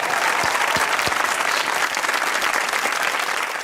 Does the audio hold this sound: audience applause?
yes